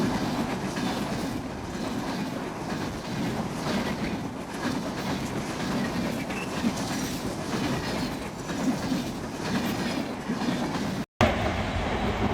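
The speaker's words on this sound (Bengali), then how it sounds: "দেখুন ট্রেন কত দ্রুত যায়," A train rushes at speed along a rail line through a village in Sirajganj, a loud, steady roar of wheels and rattling carriages with rhythmic clatter that stays close and continuous throughout, without talk.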